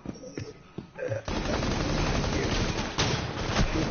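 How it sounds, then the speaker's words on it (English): Rapid gunfire from a Rainbow Six Siege match blazes steadily and loud for several seconds, following a brief stretch of scattered clatter and muffled voices at the start. "Shoot them faster."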